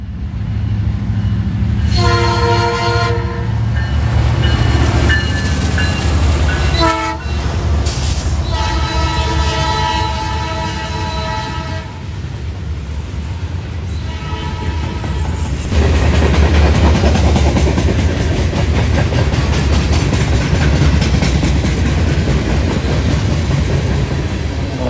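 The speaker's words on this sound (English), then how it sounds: "The leader on this train had a crazy horn that sounded like one of the chimes wasn't working." Westbound freight train 179, led by a Canadian National locomotive through London, passes close with repeated blasts of a horn that has one dead chime, sounding oddly thin, over a constant heavy rolling roar of railcars.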